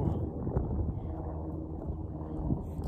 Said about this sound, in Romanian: Bate vântul de-aia îndată așa.